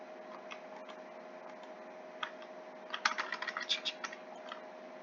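Computer keyboard keys clatter softly during a PC game session, with steady light tapping that breaks into a denser, louder burst of rapid keystrokes midway before easing off again.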